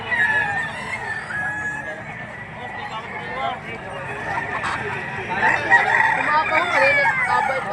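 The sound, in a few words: rooster (stag) crowing and clucking at chicken market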